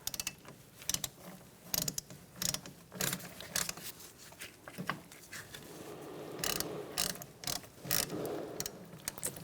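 A ratchet with an Allen wrench socket works on the rear brake of a 2004–2009 Mazda 3, making quick, close clicking bursts in irregular runs with brief pauses between strokes and no talk over them.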